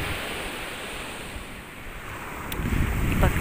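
Sea waves wash onto the shore in a continuous rushing surge while wind buffets the microphone, the roar swelling louder near the end.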